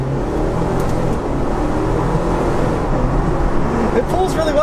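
Cabin view of a 2019 Jeep Wrangler Unlimited Rubicon with a 2.0-liter turbo four-cylinder accelerating on a back road: a steady, loud engine drone with road and tire roar throughout, the pitch shifting slightly as it pulls.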